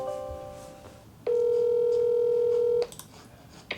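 A telephone places a call: a short dial tone gives way to a long, loud steady tone lasting about a second and a half, then clicks and a brief quieter tone follow, with no voices.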